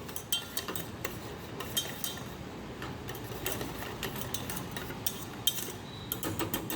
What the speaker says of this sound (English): We just whisk with wooden spoon now